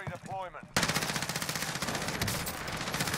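Rapid automatic M4A1 rifle fire in the video game Warzone, a loud sustained burst of closely spaced shots following a short spoken line.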